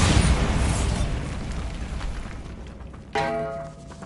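A Bombarda spell detonates in the Hogwarts Legacy game, a loud booming blast whose rumble decays over about three seconds, followed by a sharp secondary impact with a ringing, resonant tail.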